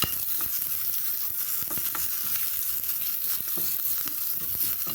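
Lentils roast dry in a pan with a little asafoetida until light brown, giving a steady close crackle and sizzle with scattered stirring scrapes and no talking.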